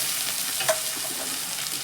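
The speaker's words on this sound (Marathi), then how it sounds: "थोडासा कढीपत्ता आणि कांदा. कांदा आपल्याला चांगला परतून घ्यायचा आहे." Onion and curry leaves sautéing in a pan, a soft steady sizzle with a faint scrape of stirring partway through, quiet and close with no talk.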